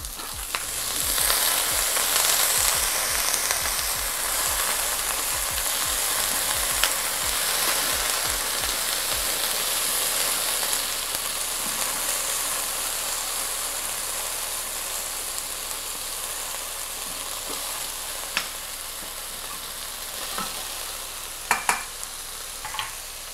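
Potatoes fry for a farmer's breakfast in an AMC pan, a steady close sizzle with occasional stirring scrapes and a few sharp clinks of the lid near the end, with no talk.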